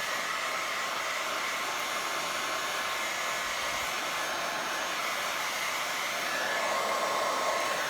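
A hair dryer blows a steady, loud, even whoosh for several seconds while drying a wet craft piece, with no voices over it.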